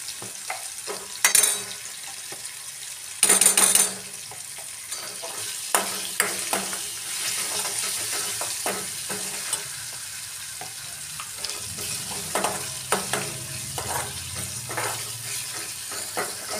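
Chilli and turmeric roasting in a pan for a Maharashtrian varan phal dal dish, a soft steady sizzle broken by occasional stirring scrapes and a few louder clatters near the start, with no talking.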